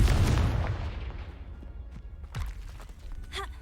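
A Confringo fire spell blast in Hogwarts Legacy lands as a booming burst with a sharp impact crack midway, then a brief rising magical shimmer near the end, all over a rumbling game soundscape.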